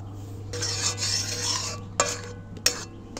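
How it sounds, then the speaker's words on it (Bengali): Semolina being stirred in a pan into a dough for a crispy potato snack: a steady scraping, rasping stir for over a second, then a couple of sharp utensil knocks against the pan, close and fairly quiet under a constant low hum. "আর একটু নাড়াচাড়া করে মেশাতে থাকবো।"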